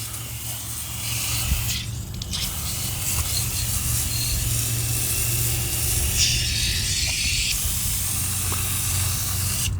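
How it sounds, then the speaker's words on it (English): Water sprayed over a car tire during a foam wash, a loud continuous hiss of spray with a brief pause partway through, close by and without talk. "Now let's pre-treat that tire by spraying it with some water."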